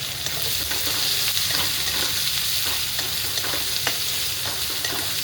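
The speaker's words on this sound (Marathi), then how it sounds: "आता टाकत आहे कांदा कांदा बारीक फिरून घेतलेला आहे" Finely chopped onion tossed into a hot pan for pasta, giving a dense, continuous close sizzle with soft stirring scrapes throughout and no voices.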